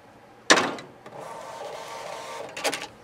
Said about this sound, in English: So you can see that the printer prints out all the information that you entered on the screen